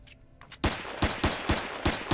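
Gunfire in the video game Empyrion: a short quiet lead-in, then a rapid run of about seven loud, sharp shots spaced at an even rhythm.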